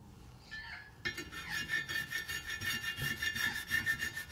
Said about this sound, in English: So here I'm just scraping away just to get some of the loose paint off here.